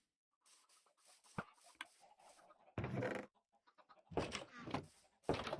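Chickens cluck inside the video game Minecraft, a few short bursts of clucking mixed with other game sounds at moderate volume and no one talking.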